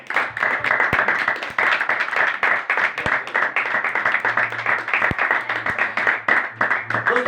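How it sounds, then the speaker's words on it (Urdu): An audience at a Christian religious gathering applauds vigorously, dense continuous clapping from many hands filling the room at close range for several seconds. "اور خداوند یسوع المسیح کی روایتوں کے لیے ایک بار زوردار تالیاں"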